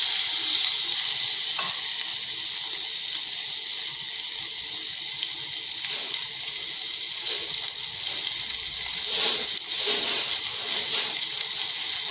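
Onion and curry leaves frying in a pan with oil, a steady close sizzle with high hiss running throughout, a few stirring scrapes and clinks breaking through, no talking.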